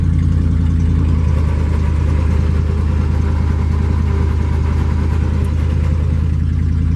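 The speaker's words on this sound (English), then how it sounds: "I don't know how well you guys can hear that over the sound of the engine," Loud, close idle of a carbureted 1980s Jeep truck engine with the transmission in reverse, a steady low throbbing drone holding throughout with a slight shift in tone after the first second.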